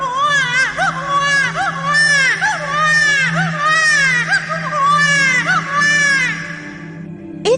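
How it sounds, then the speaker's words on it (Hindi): A newborn baby cries at night near a temple, with repeated wavering wails and short breaths in between, loud and close, with no other voices. "लगता है किसी नवजात बच्चे की रोने की आवाज है।"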